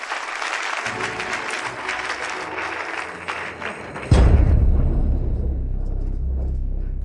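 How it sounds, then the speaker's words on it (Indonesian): Applause greets the bride's entrance at a wedding reception, a crowd clapping steadily before a heavy thump and low rumble take over and linger. "mari kita sambut dengan tepuk tangan meriah, menyambut kehadiran sang mempelai wanita"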